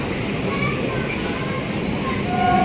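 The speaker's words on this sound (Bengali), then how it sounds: "দেখো ট্রেন চলে এসছে, ফাঁকাই আছে ট্রেন" A Barrackpore local train pulling into a station, a loud steady rumble of wheels with high squealing tones from the rails, close by and continuous.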